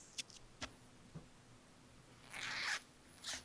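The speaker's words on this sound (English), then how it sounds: "Oh, God. I heard a zipper." Trouser zipper pulled open indoors: a few faint clicks and rustles, then a quick rasping zip run, followed by a shorter zip sound; quiet and close, no talking.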